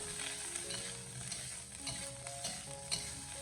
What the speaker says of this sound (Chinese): 开中火将青辣椒给它煸炒一下